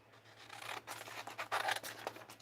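Scissors snip through material during a slow attempt to cut out circles, giving a run of short, crisp cuts at close range with brief pauses between them.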